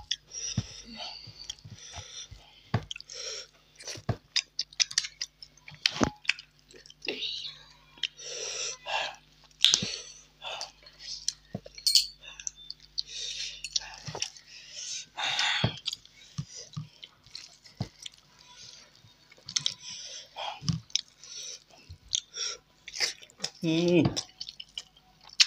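Someone eats dry rohu fish curry with potatoes, with close, wet chewing and smacking in irregular bursts, broken by breaths and occasional quiet talk.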